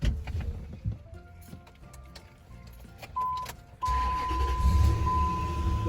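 A car engine starts with a brief cranking rattle and catches into a steady idle, preceded by interior clicks and a chime tone, heard from inside the car.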